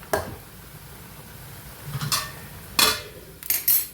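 Onions being stirred in a pan while cooking alissery, a Kerala festival dish: a few scattered scraping and clinking strokes of a utensil against the pan over a quiet background, with no talking.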